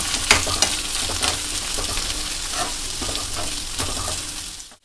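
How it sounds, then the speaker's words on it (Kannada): Chopped carrots fry in a pan, a loud, steady sizzle with scraping stir strokes running throughout and no talking, ending abruptly. "ಈಗ ಕ್ಯಾರೆಟ್ ಎಲ್ಲ ಸ್ವಲ್ಪ ಫ್ರೈ ಮಾಡಿದ್ದೀನಿ"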